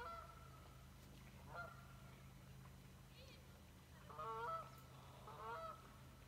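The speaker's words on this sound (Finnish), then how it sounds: "Hanhi." Geese honk outdoors near a lake on a kayak trip, a few faint, distant calls with a couple of short bursts of repeated honks later on. A low steady hum sits underneath, and a person speaks briefly.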